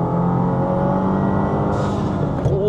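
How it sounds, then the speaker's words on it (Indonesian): A manual Subaru WRX accelerates hard in third gear after a downshift, its engine note rising steadily and loudly as it pulls out of a corner, heard from inside the car with no talking. "kita downshift gigi 3, habis tikungan kita bejek"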